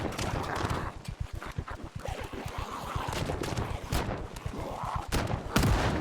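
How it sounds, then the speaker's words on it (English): Shotgun blasts in the zombie survival game Project Zomboid, a rapid run of sharp, punchy reports close together, then scattered louder single shots toward the end. "it's probably the strain of firing so many shotgun rounds"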